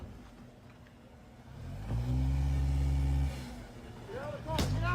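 A car engine idles and then revs up during a tense roadside stop in Minneapolis, a steady low drone swelling loud for a second or two before easing off, with shouting voices nearby.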